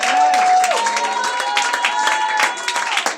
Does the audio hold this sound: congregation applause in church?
yes